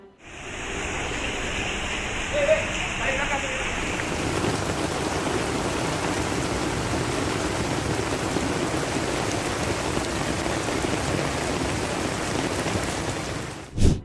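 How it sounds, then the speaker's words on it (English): Heavy rain pours down in a dense, steady roar, close and loud, continuing unbroken throughout with no voices. "following uninterrupted rain since Monday night"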